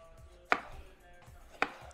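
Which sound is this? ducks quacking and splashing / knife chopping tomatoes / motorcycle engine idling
knife chopping tomatoes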